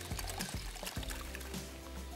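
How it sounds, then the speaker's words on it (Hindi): Water is poured into a yogurt and spice mixture, giving a steady soft splashing trickle throughout, fairly quiet and close with no talk. "थोड़ा सा पानी ताकि दही फटने से महफूज रह सके"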